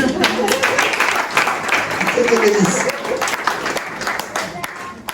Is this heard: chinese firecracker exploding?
no